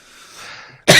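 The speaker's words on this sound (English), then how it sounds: "Oh, you're going to make me cough." A single sharp, loud cough bursts out after a stretch of faint background murmur, abrupt and close to the microphone.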